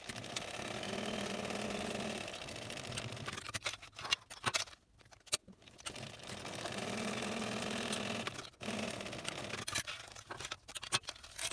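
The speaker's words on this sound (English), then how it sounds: "we're going to sew these long legs with a 1/4 inch seam allowance" Sewing machine stitching long backpack seams at a 1/4 inch allowance, a steady close whirring run that pauses midway for a few seconds before resuming.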